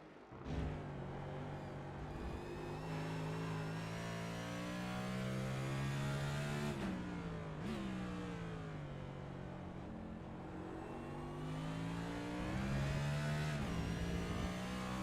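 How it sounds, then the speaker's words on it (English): A Cup Series race car engine at Circuit of the Americas, heard from the in-car cockpit, drones loudly and steadily, its pitch sweeping up and down through revs with abrupt shifts, alone without any talk. "Show his cockpit in-car camera, and let's hear this engine, Big Al."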